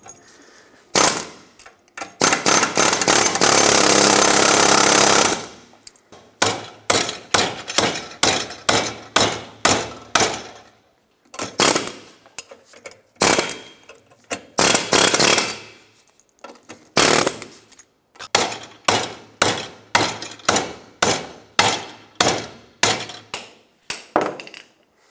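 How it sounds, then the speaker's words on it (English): Air chisel hammering out a front lower control arm bushing on a 1996-2002 Toyota 4Runner: a long sustained burst of rapid pneumatic impacts, then many short loud bursts separated by brief pauses, close and harsh. "I'm going to continue with my air chisel and just drive it out."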